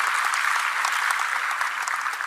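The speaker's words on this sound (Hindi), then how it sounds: "तालियों से शुभकामनाएं और बधाइयां दें" Steady, dense applause fills a ceremony hall as the audience congratulates UPSC achievers, unbroken and even from start to finish with no voices over it.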